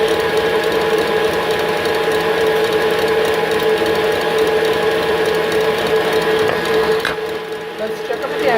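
An electric mixer whips egg whites for a lemon meringue pie, a steady close whirring drone with a faint rhythmic rattle that runs unbroken for most of the stretch before wavering near the end.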